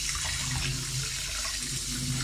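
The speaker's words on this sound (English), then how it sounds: "rinsing it under cold water until it's completely cooled down" Cold tap water runs steadily into a sink over freshly cooked small white tapioca pearls, a continuous close splashing rush with no break and no voices.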